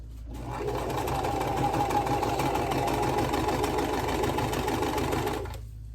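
Sewing machine stitching a quilt block, a steady continuous motor hum and rapid needle chatter running close and loud for about six seconds without talk.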